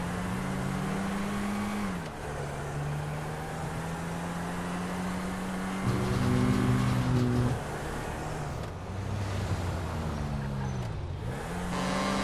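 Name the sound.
car engine in video game GTA V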